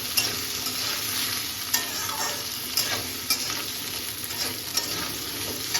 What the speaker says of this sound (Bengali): যতক্ষণ না এটা মোটামুটি হালকা ব্রাউন ব্রাউন হচ্ছে ততক্ষণ কিন্তু এটা আমি এরকমই ভেজে নেব